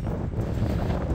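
Strong coastal wind buffets the microphone in a continuous low, rumbling roar, close and steady for about a second, with no speech.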